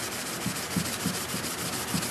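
Fine 400 grit sandpaper rubs across a scale model, soft, close strokes repeating in a steady rhythm, alone and quiet.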